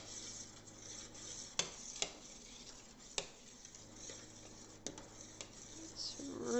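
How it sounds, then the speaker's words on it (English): A spoon scrapes and taps against a pot while apricot jam is stirred over the heat, faint steady stirring broken by a few soft clinks, with a quiet voice in the background. "So I'm going to turn it down even a bit more and stir more."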